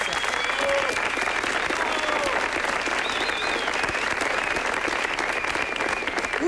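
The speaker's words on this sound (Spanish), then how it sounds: "Gracias, un aplauso." Audience at a live stand-up comedy show applauds in sustained, dense clapping that fills the whole stretch, loud and steady, with a few faint crowd voices mixed in.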